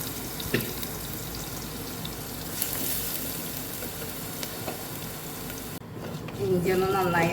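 Finely chopped ginger, about 100 grams, frying in a pan for a Kerala ginger curry, giving a steady sizzle throughout with a brief scrape near the end, followed by a soft voice.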